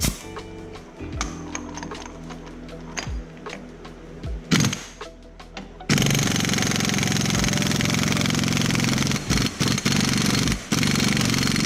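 A pneumatic impact wrench works on a Sportster chopper's rear wheel during a chain conversion, with a few short bursts at first, then a long, loud, steady hammering rattle that runs to the end, broken only by brief pauses.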